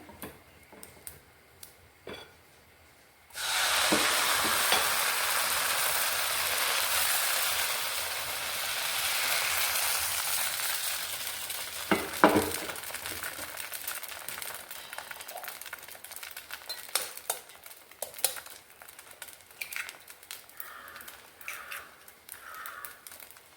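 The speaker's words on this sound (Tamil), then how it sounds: "இப்போ பாருங்கள், முட்டை அப்பம் ஊற்ற போகிறேன்." Egg appam batter hits a hot pan with a sudden loud hiss that holds steady, then thins into a crackling sizzle with scattered pops as it cooks.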